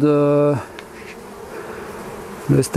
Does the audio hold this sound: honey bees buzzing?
yes